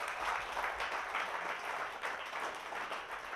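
A church congregation applauds during a Saturday worship service, a steady wash of clapping hands at moderate distance that fills the whole stretch without pause.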